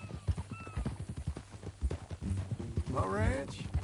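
Horse hooves clip-clop steadily in the Red Dead Redemption video game, with a horse neighing near the end, under and between spoken dialogue.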